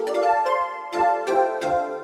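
Two layered synth pads, one flute-like and one airy, play soft sustained notes from the Peculiar Sounds V2 pack, sounding a few overlapping chords with gentle attacks, close and unaccompanied.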